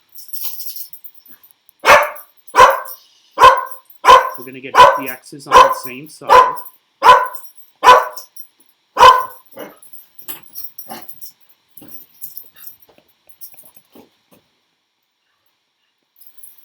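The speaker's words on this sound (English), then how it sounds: "Sorry about my dog." A dog barks about ten times in a steady, loud series close by, followed by fainter scattered yips, with a person talking over a math lesson.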